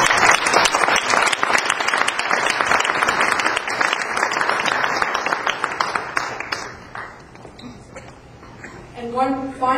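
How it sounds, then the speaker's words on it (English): Crowd applauding at an evening business reception held by a chamber of commerce and a bank in Toronto: dense, sustained clapping that fills the room for several seconds, then thins out and fades toward the end. "I would like the crowd to join with me and give you a round of applause."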